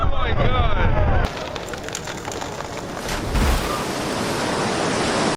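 A tsunami wave after the collapse of an ice wall in Greenland is heard as a loud, steady roar of rushing water and surf. The roar continues through the whole stretch with no pauses.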